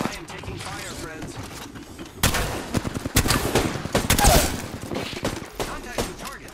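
Gunfire in a shooter video game, a dense rattling volley of shots in the middle of the clip, surrounded by quieter in-game noise and a player talking.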